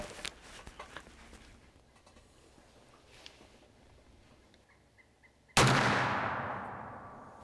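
Faint outdoor shuffling gives way to one sharp, loud rifle shot at a shooting range while a hunting rifle is sighted in, its echo decaying slowly afterward.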